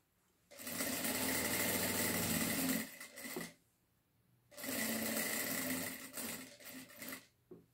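A sewing machine stitches the opening of a lined garment sleeve, running in two steady bursts of about two and a half seconds each, separated by a short pause, close and fairly quiet.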